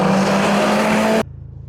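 A tuned Abarth 595 with a loud modified exhaust roars past on a bend, a strong sustained engine note that cuts off abruptly after about a second, leaving only faint background.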